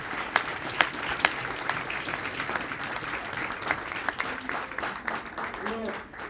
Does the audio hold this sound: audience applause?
yes